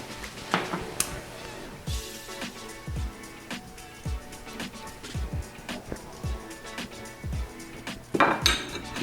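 Browned bacon lifted out of a pan with a utensil, a series of close metallic scrapes, clinks and taps against the pan in an irregular rhythm, with a louder clatter at the end.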